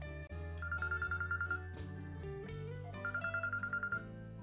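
A telephone rings in a horror movie, two bursts of rapid trilling bell tones separated by a pause, set over a low musical background.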